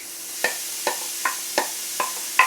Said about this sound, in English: Okay, so now my pan has gotten warm. I'm going to put in the mushrooms.